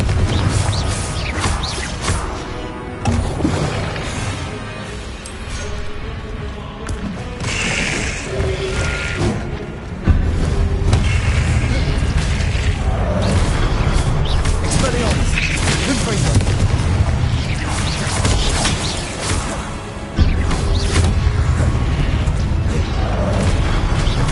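Spell blasts from Hogwarts Legacy, Expelliarmus and Confringo, fire again and again in a dense, loud, continuous barrage of crackling bursts and heavy booms, with sharp surges near ten and twenty seconds.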